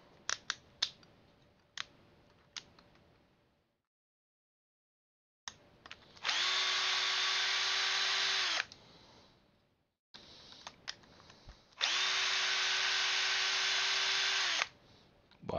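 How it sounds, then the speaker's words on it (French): A power screwdriver unscrews parts from a Traxxas X-Maxx RC truck, whirring in two sustained bursts of a few seconds each, close up, with small clicks and handling taps of the parts before and between them. "Et on va tout dévisser."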